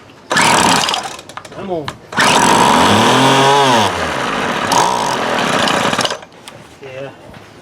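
A 1996 Craftsman string trimmer with a suspect stuck carburetor needle sputters loudly as it tries to start, with two long bursts of revving and a shorter try between them, and someone speaks briefly near the end.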